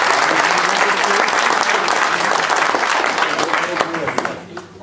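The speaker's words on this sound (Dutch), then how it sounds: "En applaus voor de collega." Dense applause from a crowd at a fire brigade farewell ceremony in Aalten fills the room for several seconds, then thins out and fades near the end.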